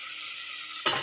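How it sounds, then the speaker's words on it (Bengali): Vegetables for a veg biryani sizzle steadily in a hot pan, a soft, even frying hiss ending with a brief louder scrape of stirring. "ভাজাটা মোটামুটি হয়ে এসছে"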